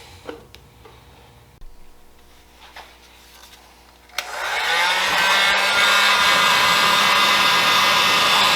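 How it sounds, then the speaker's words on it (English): A few light clicks and taps are followed by a heat gun switching on and blowing a loud, steady, close hiss while it softens a plastic gas can. "Apply a little heat gun to soften up the plastic a little bit."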